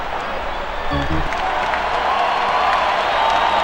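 In the baseball video game MLB 2K5, with the Houston Astros facing the St. Louis Cardinals, a stadium crowd cheers and claps in a steady, swelling roar, with a brief low thump near the start.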